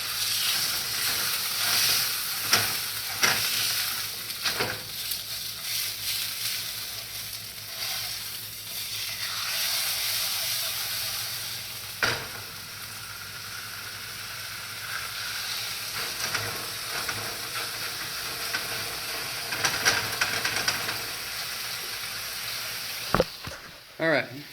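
Thick steak searing in a pan in an apartment kitchen, a steady close hiss of fat and juices that runs throughout, with a few sharp clicks and pops near the end.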